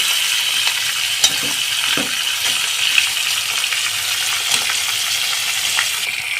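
Catla fish heads fry in a pan with a steady loud sizzle, punctuated by occasional metallic clinks and stirring taps.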